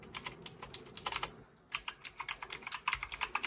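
Rapid, crisp keystrokes on a Pictek RGB mechanical gaming keyboard clatter close up in quick bursts, typewriter-like, with a brief pause midway before the typing resumes at a steady pace.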